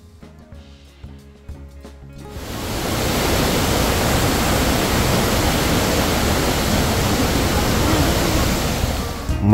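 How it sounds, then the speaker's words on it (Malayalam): Powerful waterfall swollen by monsoon rain on a Kerala hill road route, a steady loud broadband roar that swells in after about two seconds and then holds unbroken. "ഇതെല്ലാം നല്ല പവറായിട്ട് തന്നെയാണ് വെള്ളച്ചാട്ടം ഒഴുകിക്കൊണ്ടിരിക്കുന്നത് മഴ പിടിച്ചതിൻ്റെ പേരിൽ"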